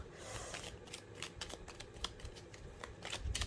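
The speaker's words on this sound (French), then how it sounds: "je brasse beaucoup, hein, comme toujours avec le petit Lenormand" A deck of small Lenormand cards is shuffled steadily, giving a rapid, close riffle of soft papery slaps and flicks that continues without pause.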